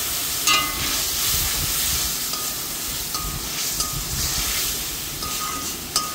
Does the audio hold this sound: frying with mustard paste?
yes